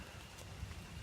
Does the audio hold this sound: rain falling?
yes